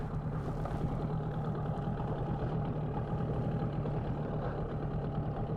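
A Tohatsu 9.8 outboard boat motor, still being broken in, runs steadily at idle-to-low revs, a constant droning hum with a slight knocking texture and no break throughout.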